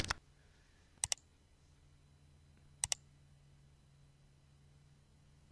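Sharp computer mouse clicks while drafting in AutoCAD 2019: one single click, then two quick double-clicks, crisp and close against a near-silent room.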